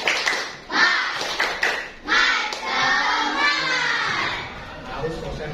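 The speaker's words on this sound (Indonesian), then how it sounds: "Nah, supaya lebih semangat, coba tepuk semangat." A sixth-grade primary school class at SDN 1 Gebangkulon doing a rhythmic spirit clap, quick patterned hand claps mixed with children's shouts and chanting voices in a lively room.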